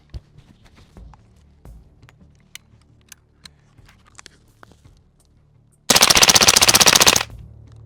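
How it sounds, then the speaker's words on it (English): An FRT-equipped DOE carbine empties a full 20-round magazine at a cardboard target, a loud, rapid unbroken string of shots lasting over a second after scattered quiet clicks and handling noises. "I'm gonna dump a whole 20 round mag into that cardboard target"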